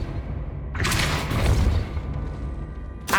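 A Depulso force spell is cast in Hogwarts Legacy, a single sudden whooshing blast that swells into a heavy boom and rumbles out over about a second, with a fainter swish afterward.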